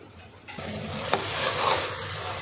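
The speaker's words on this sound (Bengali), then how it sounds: "এইগুলোকে দিয়েও আরও 2-3 মিনিট মতো ভাজবো, তারপর এর মধ্যে জল অ্যাড করবো।" Soaked moong dal and rice with vegetables frying in a pan for khichuri, a steady close sizzle that swells after a soft start, with a sharp clink of a spoon against the pan partway through.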